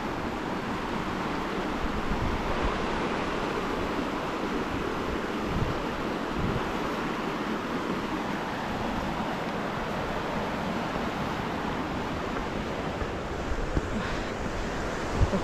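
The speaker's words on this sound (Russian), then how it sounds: "Река Шамак бежит." The Shumak river rushing through a mountain valley makes a broad, steady roar of flowing water, loud and continuous with wind mixed in and no talking.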